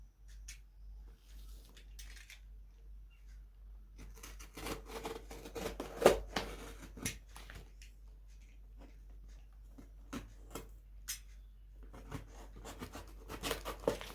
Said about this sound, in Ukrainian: Зараз ми відкриємо її і разом з вами подивимось